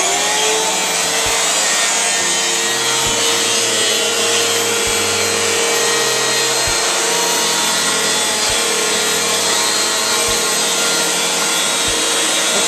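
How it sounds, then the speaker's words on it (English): A Eureka Whirlwind 3272AV bagless upright vacuum cleaner runs with a loud, steady whine and broad hiss that holds for the whole stretch, with a few brief low bumps as it is pushed across the floor. "we're going to see first how the Eureka works on cleaning up this type of area"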